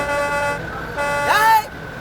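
A bus horn blares loudly up close in a street scene with buses parked nearby, sustained honks blasting over shouted talk.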